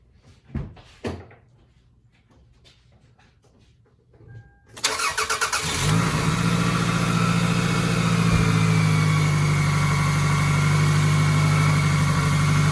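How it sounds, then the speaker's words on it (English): A 2001 Toyota Camry's engine cranks and catches after a few quiet clicks, then settles into a loud, steady idle that holds to the end. "let's start the car up"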